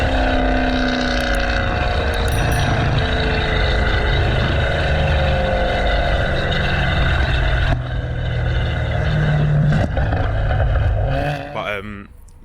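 A loud BMW M3 exhaust recorded from a GoPro on the rear bumper roars steadily at close range, with a droning tone that shifts pitch and then fades away at the end.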